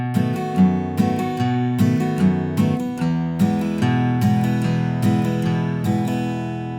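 An acoustic guitar plays a song intro in boom-chuck style, alternating a bass note with a chord strum in a steady bouncing rhythm, close and solo with no voices.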